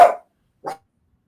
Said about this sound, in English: I'm waiting for my dogs to start barking here too.